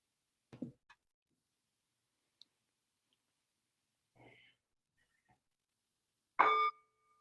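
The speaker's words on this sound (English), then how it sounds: "Could we have a bell?" A single bell rung to open a Dharma talk at an Order of Interbeing sangha gathering rings out near the end, bright and sustained, after a few faint clicks and a short, low murmur in an otherwise quiet room.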